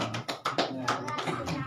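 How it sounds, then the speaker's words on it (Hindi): Hands clap at a garland welcome ceremony for a village sarpanch, a brief burst of sharp, uneven claps from a small group, with voices faintly present behind them. "जोरदार ताली।"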